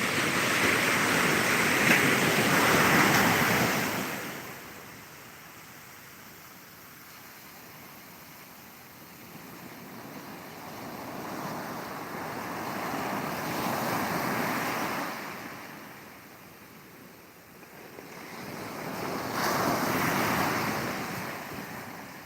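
Powerful ocean surf rolls onto a beach in Ghana, broad roaring waves rising and falling in slow surges with heavy slapping crashes, mixed with wind buffeting the microphone, no voices.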